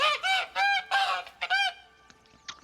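Goose honking in The Witcher 3, a run of loud, close, nasal honks in quick bursts, then fading to fainter calls and quiet tail.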